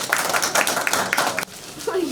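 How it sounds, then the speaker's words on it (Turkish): Children clapping at a rural school during a visit, quick close hand claps under a talking voice, stopping abruptly partway through. "Alkışlayın bakalım güzel."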